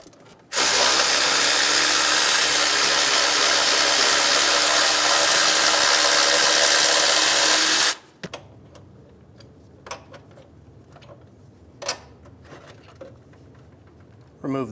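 A power tool with a 17mm socket spins out a motor mount bolt on a 2003-2008 Honda Pilot, giving one loud, continuous whir of about seven seconds, followed by quieter clicks and ticks of the bolt being handled.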